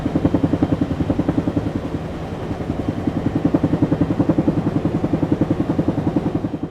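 A BDF helicopter flying about 1,000 meters above an illegal airstrip, its rotor producing a loud, steady rapid chopping pulse over a droning engine, continuous throughout with no voices.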